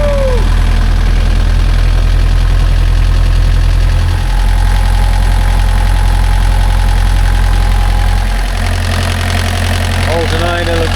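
A sailboat's inboard engine idling steadily after being started, a loud deep throbbing rumble close by, with a person talking over it.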